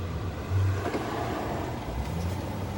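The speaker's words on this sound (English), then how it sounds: "Car's coming, car's coming." A car on the road rumbles by in a steady low roar, swelling slightly as it approaches and passes, with rushing wind noise throughout.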